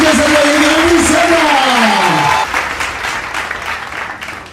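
Audience applause welcoming a guest at a science talk show in Kota, loud sustained clapping that fades toward the end while a voice speaks over it.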